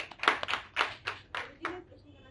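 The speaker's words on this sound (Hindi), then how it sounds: "ये ताली साधु जी के लिए।" An audience claps in rhythm at a Hindi spiritual discourse gathering, about six distinct bursts in quick succession, fairly close and moderately loud.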